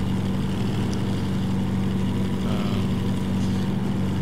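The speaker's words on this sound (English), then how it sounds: "you might get annoyed with the engine sound effects" Ford Bronco FD-69 off-roader in the game Snowrunner, its looped engine droning steadily at a constant low pitch, loud and unbroken with no voices.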